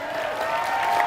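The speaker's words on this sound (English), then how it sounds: "We actually want to applaud all of you." A large convention audience at Minecon 2016 applauds steadily and loudly, a dense, sustained wash of clapping from a big crowd with no clear pauses.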